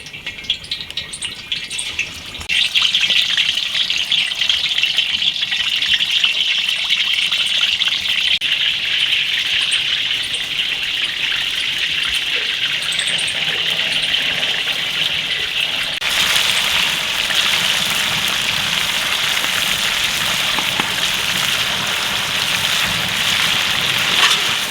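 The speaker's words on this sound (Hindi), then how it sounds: "तेल हमारा गरम हो गया है। अब हम डालेंगे मछली इसमें।" A large fish goes into hot oil in a karahi at a village cookout: a quiet start, then a sudden loud, steady hiss and crackle of frying that keeps going and grows brighter near the end, with no talking.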